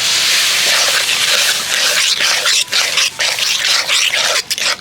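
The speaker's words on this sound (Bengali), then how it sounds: "এবার ওই বাটিরই হাফ বাটি জল নিয়েছি, জলটা দিয়ে দেব" Water poured into a hot pan of semolina mixed with ripe palm pulp gives a loud, close, sustained steaming hiss that fluctuates and breaks up toward the end.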